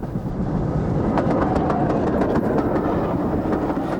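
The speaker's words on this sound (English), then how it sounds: "Another mainline train has one of Thompson's Go Anywhere B1s at the head." A mainline steam train hauled by a Thompson B1 locomotive passes near Roydon in 1959, giving a steady, loud rolling rumble with rhythmic clickety-clack from the wheels over rail joints throughout.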